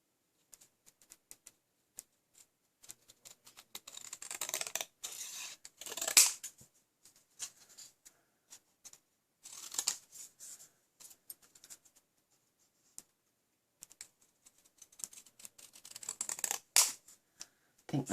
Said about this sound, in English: I'm just using plain old scissors.